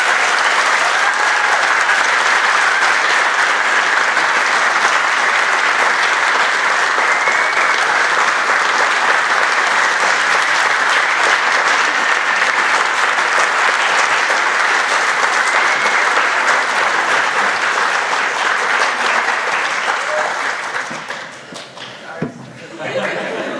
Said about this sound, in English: we'll do it with a huge round of applause to help support them